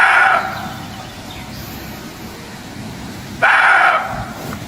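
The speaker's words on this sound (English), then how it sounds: "Her dog's ears perked up, his body tensed, before he erupted into frantic barking" Two loud, harsh outbursts of barking, one at the start and another near the end, over a steady outdoor background hiss.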